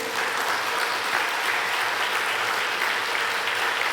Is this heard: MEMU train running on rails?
no